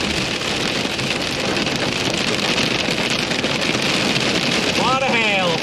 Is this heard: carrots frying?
no